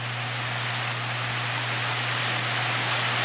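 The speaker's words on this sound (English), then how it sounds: "You make rain, you bring it down, and then you take it back again" Steady rain hisses in a dense, unbroken wash, with a low constant hum underneath and no voices.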